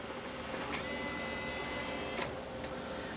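Motorized tray of an RCA 5-disc CD changer opening and closing, a steady whirring mechanical drone throughout with brief clunks as the tray moves and stops, heard alone and fairly close.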